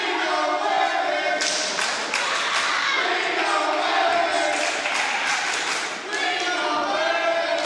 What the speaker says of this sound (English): you see the crowd chanting ring awareness.